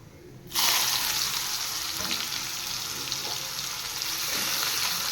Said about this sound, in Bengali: একটা মিডিয়াম সাইজের পেঁয়াজ কেটে একটু ফ্রাই করে নিচ্ছি